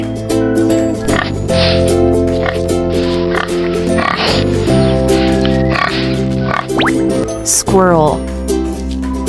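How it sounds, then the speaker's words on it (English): A pig grunts and oinks in a run of short, snuffling bursts, close and loud, with a squeal near the end, over a steady musical backing tone. "Pig."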